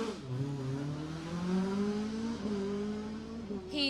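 Rally cars passing on a stage of the Jersey Rally 2018, a loud engine note rising and falling as a car sweeps by, with a second car's revving following close behind.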